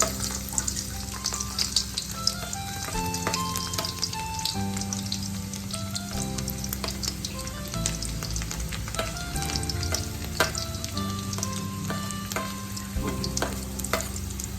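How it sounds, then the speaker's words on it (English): Garlic frying in a pan for Hakka noodles, a steady close sizzle with scattered clinks and stirring scrapes throughout, no voices. "So first of all we'll put the garlic in it."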